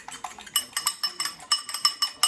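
A fork whisks a mixture with parsley in a bowl, making quick, rhythmic metallic clinks and scrapes that repeat steadily at close range.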